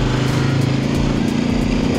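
A motorcycle engine with an aftermarket ECU fitted runs steadily close by, its throaty rumble rising and falling with light throttle blips, loud and alone with no talk.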